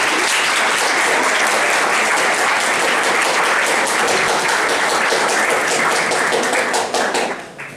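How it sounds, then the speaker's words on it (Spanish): A crowd at a panel discussion applauds loudly and steadily, dense clapping that holds for several seconds before tapering off at the end. "un aplauso para ustedes"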